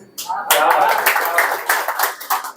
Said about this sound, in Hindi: भाई ताली बजाते रहो, वाह वाह बोलते रहो